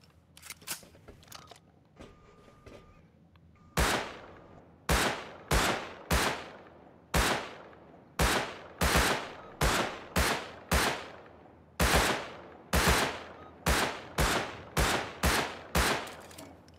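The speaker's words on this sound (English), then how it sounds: "Shooting at him" Gunfire in the video game Rust Console Edition comes as a long series of loud, sharp single shots at an irregular, fairly quick pace, each with a short echoing tail. A few softer clicks precede the shooting.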